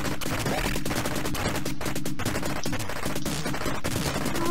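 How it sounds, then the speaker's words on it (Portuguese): Rapid gunfire from the 1985 Capcom arcade shooter Senjō no Ōkami, a relentless chatter of retro shots layered over a looping game soundtrack, loud and steady throughout. "Nem sei pra que eu tô atirando"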